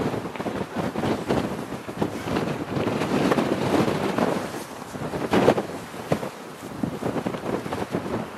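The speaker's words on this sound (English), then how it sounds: "It's just windy when you get here" Strong wind gusting inside a power station cooling tower, a loud, continuous buffeting roar with surges and microphone rumble, close and dominant, with no talking.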